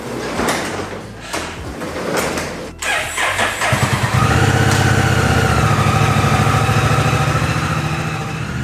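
A 2024 Honda Africa Twin motorcycle cranks with a few clunks and then fires up. The engine settles into a loud, steady, throbbing idle close by.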